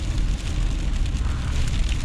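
Hail pelts a car being driven through a Melbourne hailstorm, a dense, continuous clatter and hiss of stones on the roof and glass under low road rumble, with no voices.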